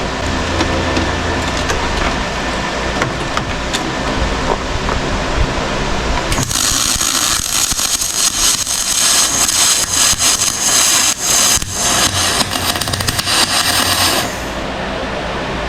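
MIG welder running on dirty aluminum of a Jon boat, a steady loud crackling buzz that starts about six seconds in and holds for roughly eight seconds after a stretch of quieter background hum.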